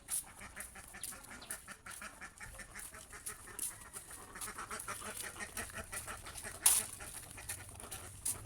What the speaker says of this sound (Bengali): আজকে হাঁস ছেড়ে দিতেছি, দেখি আজকে কি হয়